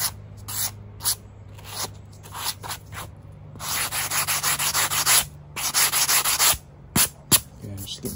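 An object is rubbed across a rock in repeated rough scraping strokes, close and fairly loud, in short bursts then longer runs, with no talk.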